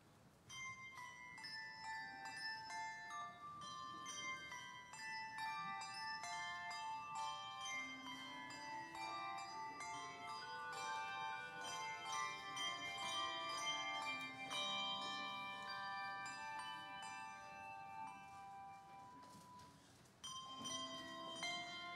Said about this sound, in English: now I turn it over to our beautiful bell choir